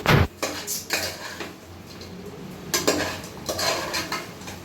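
Quail being roasted and stirred in a kadai pan, with a spoon clanking and scraping against the metal in irregular strokes and a faint sizzle underneath.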